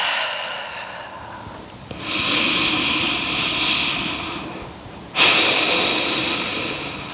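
Slow, deep breaths during a yoga stretch: a long airy inhale-and-exhale cycle and then a sharper, louder breath near the end, close to the mic with no talking.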